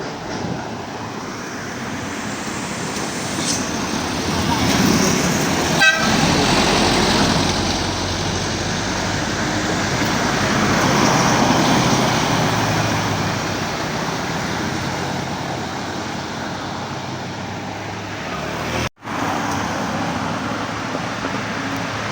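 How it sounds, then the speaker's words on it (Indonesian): Cars pass along a highway between Payakumbuh and Bukittinggi, a continuous roar of engines and tyres swelling and fading as vehicles go by, with a brief horn and a sharp dropout near the end. "Udah banyak yang lewat mobil-mobil pribadi."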